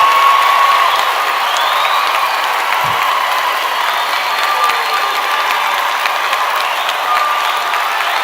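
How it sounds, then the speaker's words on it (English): Families at a medicine and health sciences graduation ceremony cheer and applaud in a large hall, a loud, continuous roar of clapping with a few whistles and shouts rising above it. "Are there any families who want to cheer again?"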